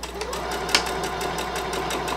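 Sewing machine stitching seams on a child's dress, a fast regular mechanical clatter with even rhythmic pulses and a steady motor hum.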